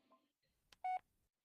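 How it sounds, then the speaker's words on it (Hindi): A phone in a bedroom gives a single short electronic tone, a brief clear beep that stands out in an otherwise quiet room with faint background murmur. "पर अभी वो अपने बिस्तर पर बैठे ही थी कि उसका फोन बजा।"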